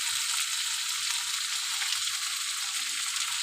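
Turmeric and cumin powder sizzle in hot oil in a pan for a tilapia curry with yardlong beans and potatoes, a steady, even frying hiss that runs throughout with no talking.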